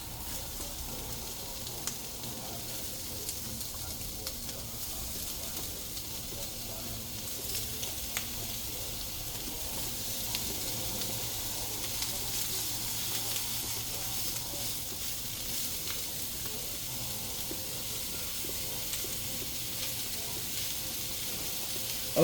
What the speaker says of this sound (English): we're gonna lay our sausage flat in the pan